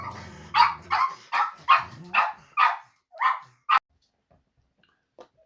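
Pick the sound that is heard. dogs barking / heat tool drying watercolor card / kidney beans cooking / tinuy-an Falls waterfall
dogs barking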